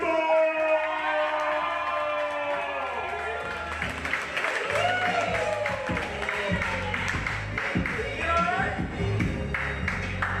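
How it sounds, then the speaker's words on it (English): Audience applause fills a small open mic night venue, a burst of crowd clapping that swells midway and carries on steadily, mixed with voices and a tonal backing. "Please put your hands together, clap it up, and show some love for Valden Campbell."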